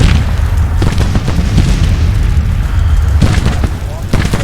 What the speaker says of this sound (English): Knock those cannons out.